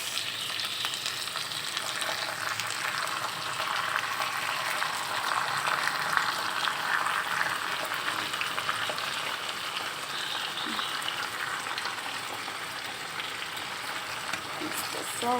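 Sauce poured into a pan of frying Assam-style fish hisses into a loud, steady sizzle with a bright, crackling spray of sound that holds unbroken throughout, with occasional stirring noises close by.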